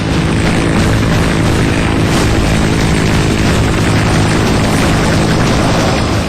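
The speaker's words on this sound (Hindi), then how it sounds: "आसमान में लहराते ये लड़ाकू हेलीकॉप्टर देख लो" Indian Navy military fighter helicopters fly overhead during a naval drill. A loud, steady roar of rotor and engine noise fills the whole stretch without pause.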